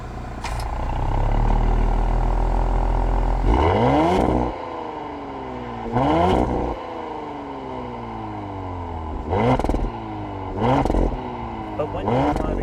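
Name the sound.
2021 Audi SQ5 exhaust crackles and pops while driving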